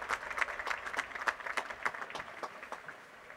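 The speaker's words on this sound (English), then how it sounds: "Please join me in a round of applause for these students" Scattered, fairly faint clapping from a commencement audience at Virginia Tech honours the new graduates, individual claps standing out in a loose irregular rhythm and thinning toward the end, with no talking.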